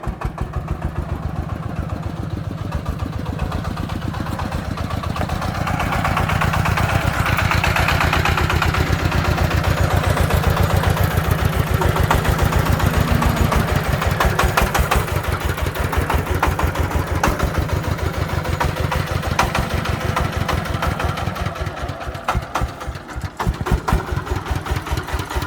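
Three-wheeler sand truck, its engine swapped for a 115 unit, idling while reversing at a construction site: a loud, steady, rapid mechanical chug that runs continuously throughout, close to the listener.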